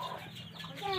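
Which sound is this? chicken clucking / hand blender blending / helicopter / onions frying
chicken clucking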